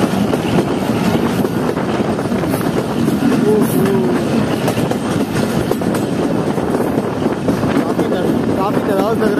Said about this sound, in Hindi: एक्सेलरेट किया है GME 15 ने सर।